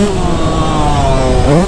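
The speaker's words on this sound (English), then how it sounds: "It's a YZ125, man. I swear, I'm making so much noise on this thing" A Yamaha YZ125 two-stroke dirt bike engine screams close and loud while ridden hard, a continuous buzzing rev that rises sharply near the end.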